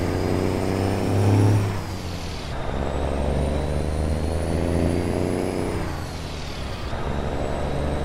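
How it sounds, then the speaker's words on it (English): Heavy engine rumble and braking drone from a Kenworth C500 truck using its jake brake in American Truck Simulator, a steady loud low roar with a rising whine, running continuously and unaccompanied by voices. "It's got a pretty good jake brake on it too."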